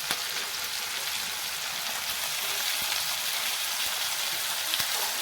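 Onion and tomato sauté in a pan over a high gas flame, giving a steady bright hiss of frying, close and continuous, with a few soft clicks and no voices.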